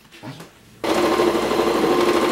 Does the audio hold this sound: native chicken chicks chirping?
no